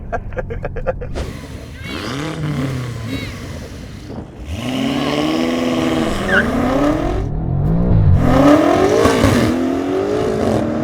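A tuned 1,000 hp BMW M5 and a Porsche 911 Turbo S drag race: loud engines rev and climb through the gears in rising sweeps, with shift breaks between them and a roar that stays close and strong throughout.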